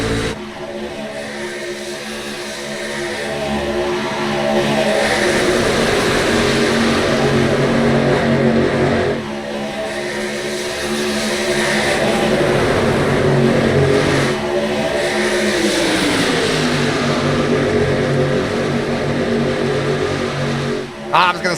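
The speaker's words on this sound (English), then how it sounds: "Hear that throttle control from Braden Carter." Race truck engines roar continuously at Talladega, the throttle rising and easing as a pack runs in line, loud and steady under a commentator's talk.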